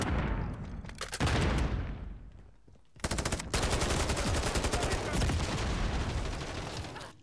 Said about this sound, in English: That gun exchange. Those fire, the bullets exchange.